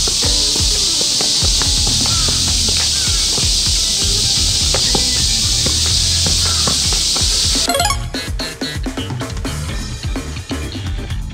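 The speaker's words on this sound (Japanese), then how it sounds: "ほんとセミの声がうるさい。" Loud, dense cicada chorus droning steadily through a summer outdoor setting, with scattered thumps and scuffs of a football being kicked and juggled close by; the buzzing cuts off abruptly partway through, leaving nearer knocks and rustles.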